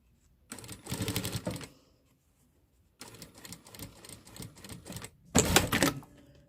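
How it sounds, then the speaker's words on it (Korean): A sewing machine stitches the neckline facing of a T-shirt in three short bursts of rapid, close mechanical chatter, separated by quiet pauses, with no voices. "이렇게 박음질 해주고요"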